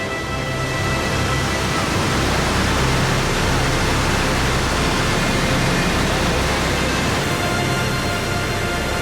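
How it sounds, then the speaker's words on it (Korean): The Rhine Falls at Schaffhausen, Switzerland, a 23-metre waterfall of powerful rushing water, roaring loud and close as a dense, unbroken wash of sound. "비록 폭포의 높이는 23m밖에 되지 않지만 엄청난 위력으로 쏟아지는 물살은 그 어느 폭포보다 압도적입니다"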